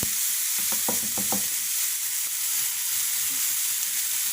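Julienned ginger and sliced green chillies are stirred into a frying pan with softened tomatoes, giving a steady sizzle with a few quick scraping strokes early on, close and alone without talk.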